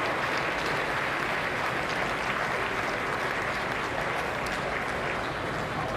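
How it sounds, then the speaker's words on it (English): Presidential debate audience erupts into sustained, dense applause, a steady wash of many hands clapping for several seconds, loud and even throughout with no voices above it. "a very well-behaved crowd that was silent for 90 minutes bursts into applause"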